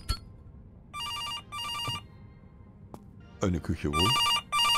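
A telephone rings in bursts of repeated electronic trills in the video game September 7th, while someone talks over part of it and other game noises sit in the background.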